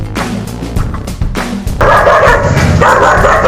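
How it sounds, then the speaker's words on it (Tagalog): A dog barks repeatedly, loud and close, in quick sharp bursts with some yips mixed in. "Aso."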